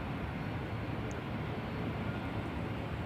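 An Air Baltic airliner takes off from Schiphol's Polderbaan runway, a steady broadband engine roar heard from a distance, constant and unbroken with no voices.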